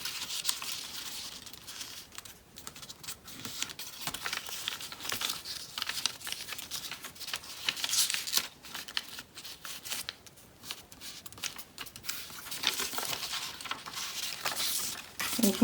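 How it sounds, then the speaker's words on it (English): Printed cardstock for a 3D pop-up Father's Day card being handled and creased into neat folds, giving a steady run of close, soft crinkling and rustling paper sounds with no talk. "What you need to do now is you need to create a nice neat fold here."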